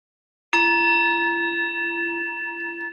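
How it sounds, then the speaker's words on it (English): A single meditation chime struck once, ringing out with a bright attack and a long, steady, sustained tone that slowly fades in a quiet room. "as you listen to the sound of the chime"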